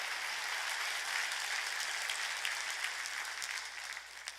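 A church congregation claps during a sermon, producing steady, dense applause that holds at a moderate, slightly distant level and tapers a little at the end.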